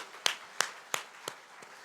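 Five sharp, evenly spaced hand claps from a church congregation during a sermon, ringing out in a quiet room and fading slightly toward the end.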